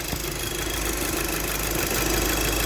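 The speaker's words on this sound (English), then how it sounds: "it's running fine, it's idling fine as well." Steady, even idle of an Audi RS4 engine after a fuel return valve upgrade, a close continuous mechanical hum with no voices.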